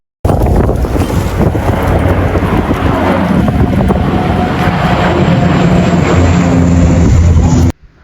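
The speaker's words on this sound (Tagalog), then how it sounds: "Tapos ang lakas pa ng hangin." Strong wind gusts during a California wildfire, a loud continuous roaring rush of microphone-buffeting air that stays steady for several seconds before cutting off abruptly, with no talk.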